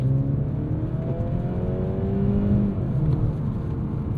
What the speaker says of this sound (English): a good amount of power from that 2-liter turbo